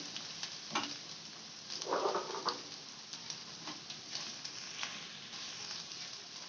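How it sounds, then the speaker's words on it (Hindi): Boiled chicken and green capsicum stirred in a sizzling pan, with a steady soft hiss and a few scraping, clattering strokes of the spoon near the start and around the middle. "अब हम इसमें बॉयल चिकन ऐड करेंगे और बॉयल चिकन ऐड करके इसको हम मिक्स करेंगे।"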